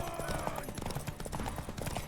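Rapid hoofbeats of a galloping horse in The Witcher 3: Wild Hunt clatter in a quick rhythm over dense game sounds and music.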